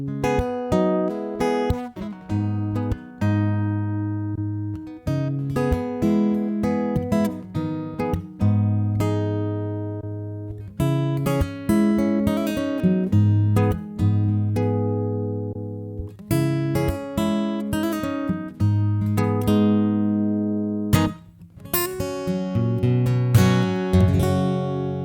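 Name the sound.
acoustic guitar through Boss AD-10 preamp, tone settings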